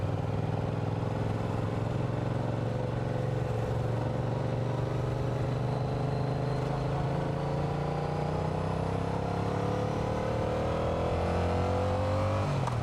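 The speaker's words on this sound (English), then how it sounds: "We are going to lane split because I am not sitting in this." A Yamaha R7 motorcycle engine drones steadily while riding and lane splitting through highway traffic, its pitch slowly rising under constant loud wind rush, with no talking.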